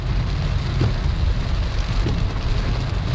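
Steady, dense rain during a severe thunderstorm in West Palm Beach, a constant close hiss with a low rumble underneath and no voices.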